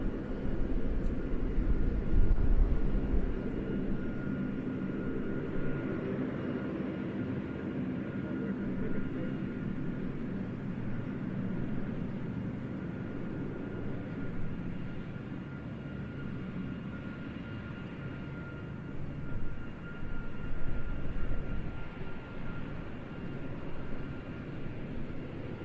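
A departing military aircraft at the RIAT airshow produces a steady, moderately distant engine roar that rumbles throughout with slow swells in loudness.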